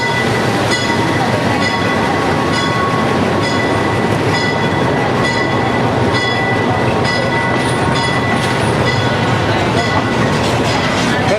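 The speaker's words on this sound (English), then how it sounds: "Okay, train to Machu Picchu." Train carrying passengers toward Machu Picchu on the line to kilometer 104, a loud, steady rumble with rhythmic clickety-clack of wheels over rail joints throughout, heard from inside the carriage with faint voices mixed in.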